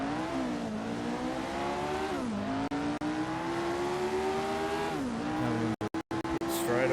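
A racing car in a 1967 Formula 1 video game pulls out of the pits, its engine droning loud and close as the pitch climbs and dips through gear changes, with brief cuts near the end.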